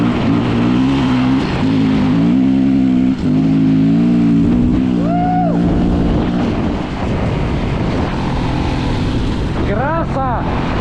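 Yamaha WR450F dirt bike on its first ride of the season after a repair, engine droning and revving loudly and steadily with rising pitch sweeps, with talk heard over it.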